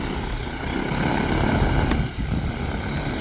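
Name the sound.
KM70 agricultural spraying drone taking off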